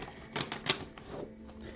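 Brief riffle of a tarot or oracle card deck being shuffled, a couple of quick papery bursts of flicking cards up close at modest volume, with no talking.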